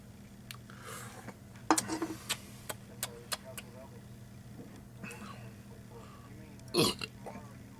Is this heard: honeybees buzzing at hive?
no